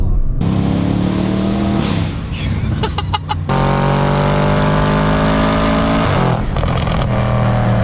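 A 2023 Audi S3 engine revs and drones loudly through gear changes, pitch rising and falling as it accelerates out of turns.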